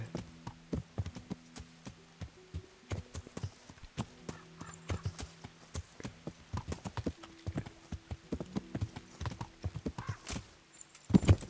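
Horse hooves clip-clop steadily while riding in the video game Kingdom Come Deliverance, a close, rhythmic run of hoofbeats with an occasional whinny and little talk.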